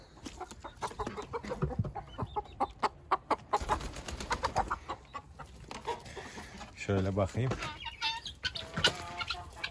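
Tokat chickens cluck and squawk nearby in bursts at a hobby coop in Taşköprü, Kastamonu, with a brief spoken remark and a louder flurry of calls near the end.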